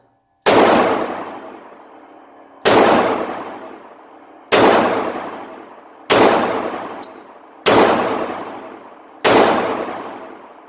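Six loud, sharp shots from a Ruger LC9 pistol at a shooting range, each a hard crack with a ringing decay, spaced about one and a half seconds apart, with no talking.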